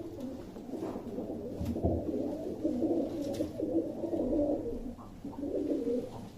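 Fancy-tailed pigeons cooing in a loft, repeated soft low throaty coos overlapping at close range, with faint rustling and background hum.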